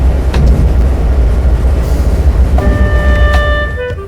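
A heavy coal train locomotive hauling cars off a mountain branch line rumbles loudly and steadily, with a deep continuous roar and wheel clatter, and high screeching brake tones rising near the end as it pulls to a stop.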